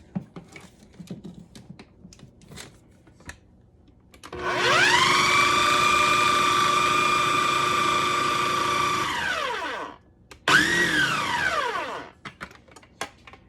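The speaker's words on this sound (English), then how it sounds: "I'm going to get the food processor going" A food processor motor spins up and runs with a steady, loud, high whine for about six seconds, winds down, then gives one shorter burst, with no one talking.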